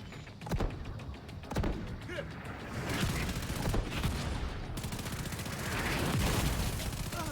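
Dense gunfire and explosions in The Division 2 video game, sharp shots and thuds rolling over a constant roar of battle, with heavy bursts near the start and a sustained loud barrage throughout.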